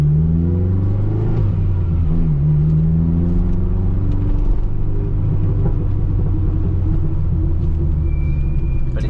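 A Lotus Esprit's engine rumbles steadily while the car cruises through a village, a low continuous drone with gentle swells of revs, close and loud throughout with no speech.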